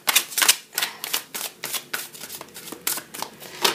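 Tarot cards are shuffled by hand in quick repeated riffles, a crisp close flutter of bursts arriving roughly every third of a second with short gaps between, no talking over it.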